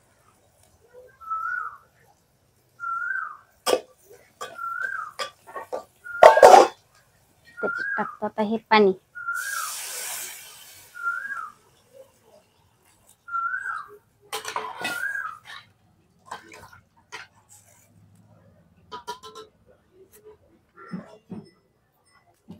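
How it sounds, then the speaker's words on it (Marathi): An Asian koel calls outside a home kitchen where spiced rice is being cooked: a clear, rising two-note call repeats at regular intervals from some distance, mixed with pot and utensil clatter and a person talking. "ते कोयल तिथे आहे, तुम्हाला आवाज येतच असेल पा."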